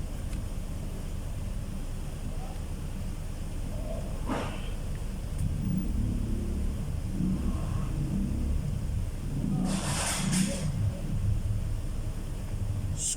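DeWalt DWD024 1/2-inch electric drill running on a test after repair, a continuous low rumbling motor hum with a couple of brief higher bursts, close and steady, no talk.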